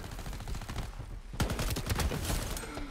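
A Pacifier Neon XM fires in the shooter Shatterline, rapid automatic bursts of close, loud gunshots, with a brief gap before a second sustained volley.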